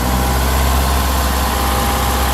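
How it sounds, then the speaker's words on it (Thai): An Isuzu MU-X engine runs at speed with the throttle held open, a loud, steady, close-up mechanical roar that stays constant throughout, with no talking. "สังเกตว่าเวลาเราเร่งเครื่องยนต์นะครับ"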